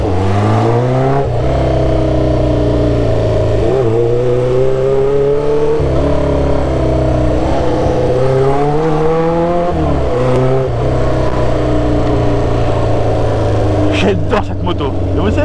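A Honda CB 500 Four cafe racer motorcycle engine revs loudly up and down repeatedly, pitch rising and falling in surges, close by and steady throughout.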